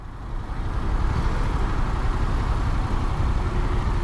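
Steady low rumble of Istanbul road traffic heard from inside a car, engines idling and rolling nearby in a constant muffled drone without speech.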